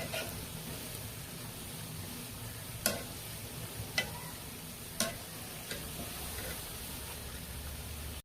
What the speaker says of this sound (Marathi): आणि सारखं असं हळवत राहायचं तेलामध्ये, म्हणजे तो सगळीकडून ना भाजतं।